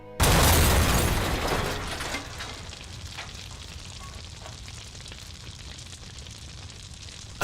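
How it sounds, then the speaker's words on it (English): A car bomb goes off with a sudden loud blast, followed by crackling fire and shattering glass that decay into a long, rumbling, noisy tail. "Of course, this explosion was no accident."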